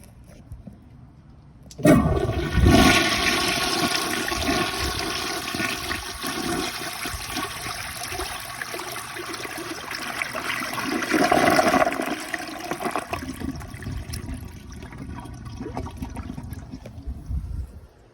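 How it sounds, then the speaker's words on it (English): A Rheem Claymore flushometer toilet flushes a load of paper towels, a sudden loud rushing roar of water that holds strong for many seconds, then gradually thins to a trickling drain. "So I'm gonna flush at least this much paper towels and see if it could go down."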